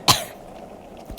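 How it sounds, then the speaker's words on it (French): A single sharp, close cough, then a fainter second cough or throat sound about a second later, with quiet room tone between. "J'ai beaucoup toussé"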